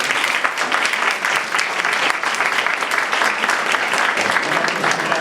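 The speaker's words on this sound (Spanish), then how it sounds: "la recibimos con este fuerte aplauso" Sustained applause from an audience welcoming a guest speaker at a presentation event, a dense, steady clatter of many hands clapping throughout, loud and close with no pauses.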